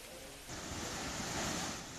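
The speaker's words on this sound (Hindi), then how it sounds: "यहां पर तेज हवाएं चल रही हैं, जबकि जोरदार बारिश भी हो रही है।" Strong winds roaring during Cyclone Bulbul along with heavy rain, a steady broadband rush that swells louder after the first half second and holds, with no speech.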